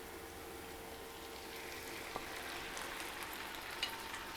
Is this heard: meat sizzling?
yes